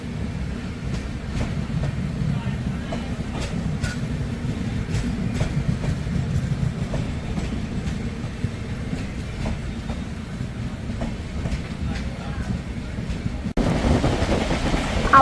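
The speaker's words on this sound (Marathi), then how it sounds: "तर ही गोवा संपर्क क्रांती ट्रेन आहे" The Goa Sampark Kranti express rolls along the rails in monsoon weather, giving a loud, continuous low rumble with faint rhythmic clicks and wind buffeting, steady throughout.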